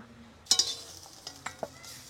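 Fried China greens are scooped out of a heavy iron wok: a few sharp metal scrapes and clinks of a utensil against the pan over a soft background sizzle, close and fairly quiet.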